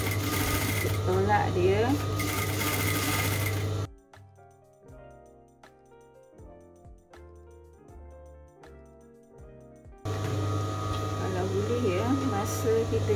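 A sewing machine stitches a pillowcase in steady close whirring bursts at the start and end, with someone talking over it and a quiet stretch of soft background music in between.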